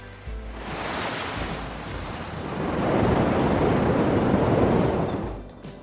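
Rushing sea water surges as waves split apart, a loud steady roar of surf that swells in the second half and drops off at the end, with no voices.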